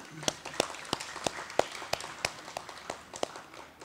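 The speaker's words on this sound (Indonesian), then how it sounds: "Tepuk tangan bagi kita semua" Applause at the closing ceremony of Rumah Resiliensi Indonesia 2022, sparse rhythmic claps spaced evenly over a low room background with faint voices.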